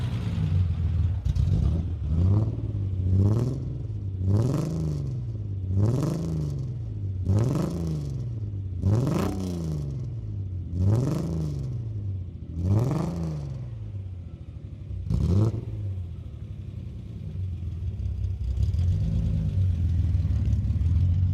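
A BMW E30 engine is revved repeatedly in a regular series of sharp blips, each rising and falling quickly over a low idle rumble, with a pause before a final rev and the idle settling.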